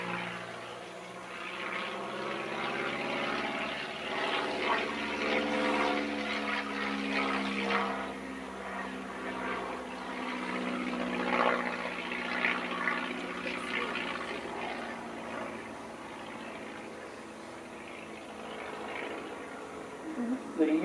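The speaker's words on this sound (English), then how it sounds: "John Turner in the Stieglitz. Pulling up into a loop" Stieglitz propeller biplane pulling up into a loop with a half roll during an air show display at Shuttleworth, a steady engine drone with a rising and falling tone, heard under continuous commentary.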